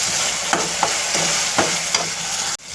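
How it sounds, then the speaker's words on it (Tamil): Ginger garlic paste and onions sizzle in hot oil, a loud, close, constant hiss punctuated by a few light stirring scrapes before cutting off abruptly. "இப்போது இஞ்சி பூண்டு சேர்க்கலாம். வதங்கணுங்க நல்லா எண்ணெயிலேயே."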